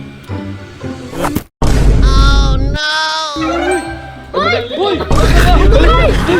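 A loud, sharp crackling burst with heavy booming noise, set among excited shouting voices and chatter.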